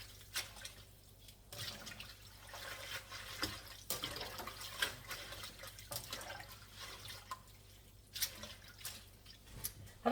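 Water runs faintly into a kitchen sink while collard greens are rinsed, with a low steady trickle and soft irregular splashes and drips throughout.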